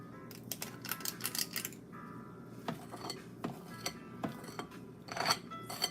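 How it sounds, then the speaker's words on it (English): A metal ice cream scoop scooping and scraping cookie dough, giving a run of close, crisp scraping and clicking strokes in a steady alternating rhythm with no talk. "Okay, so I'm gonna scoop and then scrape"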